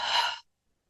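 A single soft breath out during a qigong exercise, a brief airy exhale that fades into silence after less than half a second.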